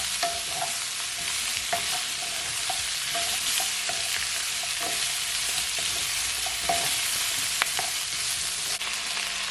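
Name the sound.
pepper steak sautéing in a pan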